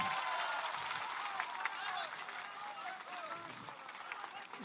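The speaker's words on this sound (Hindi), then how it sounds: "जोरदार ताली बजाइए।" Crowd applause for Manoj Bharti at a Jan Suraaj Party political gathering, steady sustained clapping filling the room with some voices mixed in, continuous and moderately loud throughout.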